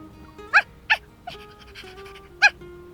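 A West Highland White Terrier in the video game Love and Deepspace gives three short, high, cheerful barks, two close together and a third after a pause, over a soft sustained musical tone.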